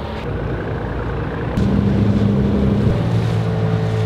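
A small dinghy outboard motor drones steadily up close with wind buffeting the microphone, its pitch rising and strengthening partway through as the engine revs.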